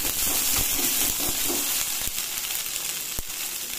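Boiled chow mein noodles frying in oil over lightly fried onion, a steady close sizzle throughout with a few sharp clicks of a utensil against the pan.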